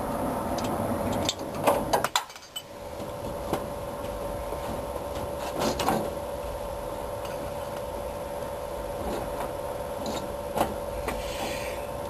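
A wrench ratchets and clicks while fan spacer bolts are tightened on a 1965 Ford Mustang GT engine. It gives scattered metallic ticks and a short clatter early on, over a steady background hum, close and moderately quiet.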